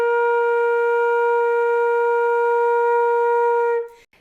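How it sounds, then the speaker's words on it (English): A flute holds a strong, solid, steady note for nearly four seconds, even in loudness with a rich, clean tone, then cuts off abruptly. "So a strong solid note would sound like this."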